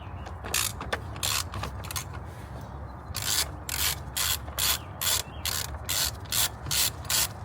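Repeated ratchet clicks from a socket wrench on a long extension loosening the battery bolt on a 2016-2018 Chevrolet Silverado, coming in steady bursts of quick, close pawl ticks with pauses in between.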